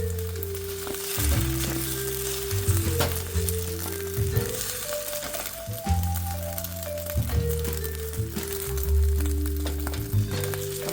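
An egg frying in a pan sizzles steadily, crackling and popping close up, with a tonal hum underneath and no talk.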